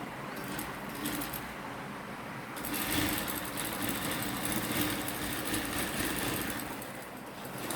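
A sewing machine stitches a straight seam on a coat, its steady motor whir running unbroken and growing louder after the first few seconds, with no voices.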